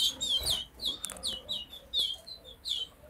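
Three young yellow canaries, bred from a Latino cock, chirp in an aviary with quick, repeated high tweets in short bursts, fairly close and alone without talk.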